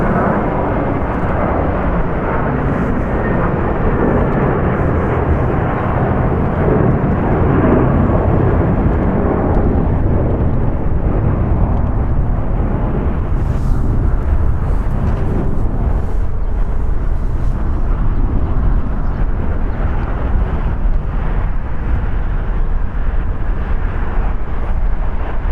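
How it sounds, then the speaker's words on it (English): A 14-year-old American Airlines Airbus A321 jet departs LAX with a sustained, powerful broadband roar, loud and steady throughout and slowly thinning in the upper range as it climbs away. "Departing here is American Airlines Flight 871 going to Dallas. It's an Airbus A321,"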